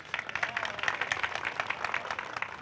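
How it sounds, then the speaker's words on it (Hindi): Studio audience at a talk show clapping in a steady, fairly faint patter of many hands, continuous for a few seconds with no voices over it. "अब ताली बजनी चाहिए।"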